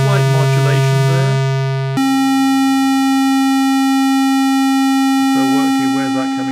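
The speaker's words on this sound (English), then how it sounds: "So that's using a square wave. And there's slight modulation there." A Moog Grandmother synthesizer plays a sustained buzzy square-wave tone with slight modulation giving a faint wobble, shifting pitch once partway through, with busier note patterns at the start and end.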